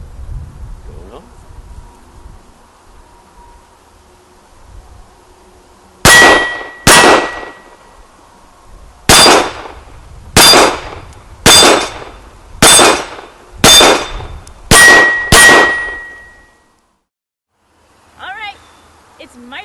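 A CZ P-09 Duty handgun fires at steel targets on an outdoor course, nine sharp ringing clangs in a pair and then a quick string, loud and close, with a faint voice briefly at the end.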